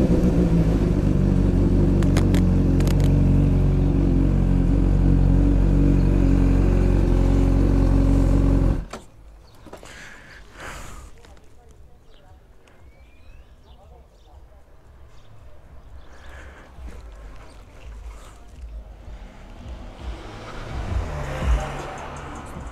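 A car on a road near Piazza Armerina: a loud, steady engine and road rumble for about nine seconds, then quieter interior road noise with scattered knocks and rustles, rising slightly toward the end.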